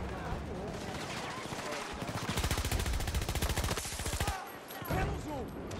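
Rapid bursts of gunfire in Battlefield 2024 crackle over a busy electronic backdrop, with automatic volleys and scattered single shots at moderate loudness.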